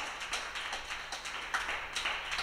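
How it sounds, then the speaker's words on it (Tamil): An audience claps hands in a church during an Easter service, a dense steady patter of many hands at moderate distance. "கையை தட்டுங்களேன்."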